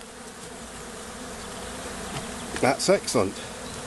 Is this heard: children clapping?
no